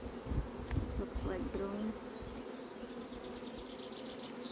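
Honeybees buzzing around a hive during an inspection, a dense close drone of many bees, with a quiet voice speaking briefly and some handling knocks early on.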